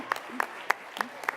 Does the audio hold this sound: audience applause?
yes